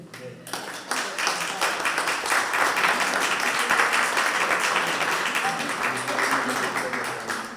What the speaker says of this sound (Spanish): ¿Qué significa este aplauso?